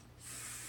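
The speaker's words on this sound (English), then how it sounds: "But we're going to use hairspray" Hairspray from an aerosol can misted onto hair, a single short, close hiss that starts abruptly and holds steady.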